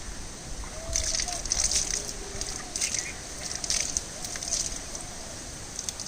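Water poured into a hanging basket of portulaca plants, giving soft irregular splashing and trickling bursts close by over a low background hiss.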